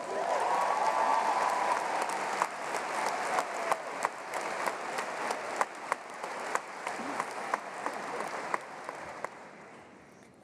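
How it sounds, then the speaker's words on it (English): Graduation crowd at a university commencement ceremony applauding, a broad sustained wash of many hands clapping with sharper individual claps poking through, gradually thinning toward the end. "That was worthy of clapping over."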